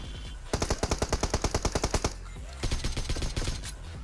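Automatic gunfire in the PUBG mobile battle royale game, two loud rapid bursts of evenly spaced shots in close range, the second burst shorter, with no talking.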